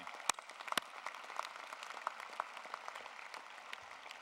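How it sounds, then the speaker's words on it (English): Scattered clapping from a crowd at a law school graduation ceremony, fairly faint and distant, with sharp individual claps standing out over a steady patter. "Let's recognize that with a round of applause to our graduates and our faculty"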